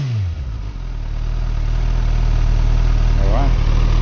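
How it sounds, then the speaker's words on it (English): A motorcycle-like engine fitted with a slip-on exhaust, revved up to full throttle, its loud, close tone climbing and then holding a steady high-rpm roar for a few seconds with no talk over it. "up to full throttle. Here we go."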